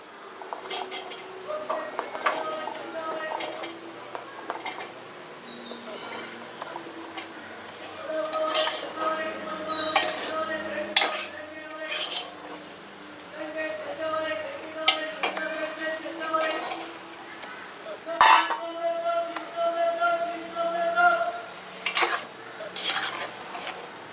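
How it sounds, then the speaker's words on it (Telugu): Bottle gourd pieces tipped into a pan of tomato curry, followed by repeated clinks and scrapes of a spoon against the metal pan, moderately close with a soft background hiss. "ఇప్పుడు ఈ ఆనపకాయ ముక్కలు వేసుకోవాలి"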